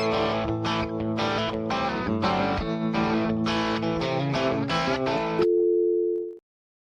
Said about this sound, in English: is there something ringing? No, it's not time for a call. It's not time for a message. It is time for FaceTime.